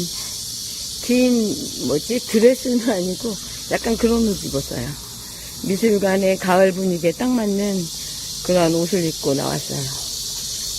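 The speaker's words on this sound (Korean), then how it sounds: "매미 소리 너무 많이 들리죠?" Cicadas chirping outdoors near an art museum in late summer: a steady, high, shrill drone runs throughout, moderately loud, beneath someone speaking at close range.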